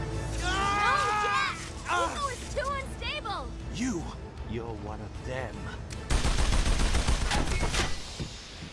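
Gunfire from pirates shooting in Jak and Daxter: The Lost Frontier, a dense rattling volley in the last seconds, after a stretch of talking voices and swooping effects.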